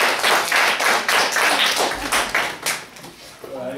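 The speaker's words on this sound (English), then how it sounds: "Let's give Garrett another round of applause." A small class audience claps for a student after a persuasive speech, a few seconds of brisk, uneven clapping from nearby with some voices mixed in.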